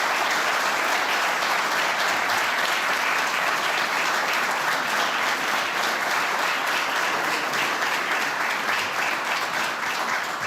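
Sustained, dense applause from an audience following a speech on European grand strategy at an ICDS anniversary event, steady and full throughout with no talking.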